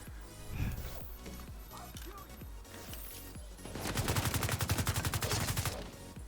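Gunfire in The Division 2, a third-person shooter: scattered single shots at first, then a rapid sustained automatic burst with dense rhythmic reports, loud and close.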